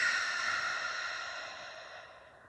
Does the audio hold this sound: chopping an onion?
no